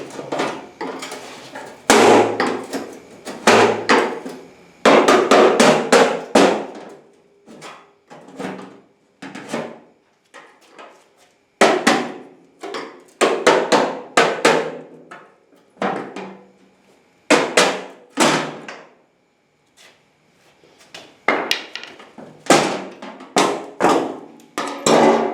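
Prying a part off a rock bouncer off-road vehicle after its rivets were ground down, a series of sharp knocks, metal clanks and scraping strikes in uneven bursts with short pauses between.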